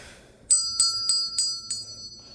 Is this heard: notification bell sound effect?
yes